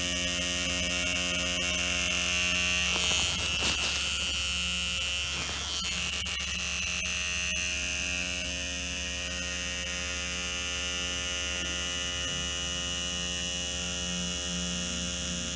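Tattoo machine running steadily as its needle draws a fine line, a continuous electric buzz with a strong hum, close and unbroken throughout with only slight dips in intensity.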